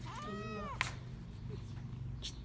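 A cat gives one clear, close meow lasting about half a second, followed by a sharp click and quiet household background noise.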